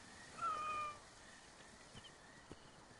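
A single cat meows once in the Assassin's Creed video game, a brief, faint mew over a quiet game background.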